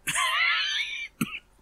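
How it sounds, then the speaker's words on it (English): A Red Dead Redemption 2 character gives a raspy, throaty cough, a drawn-out rough rattle followed by one short, sharper cough, close and with no talking over it. "Maybe I can help you with that cough."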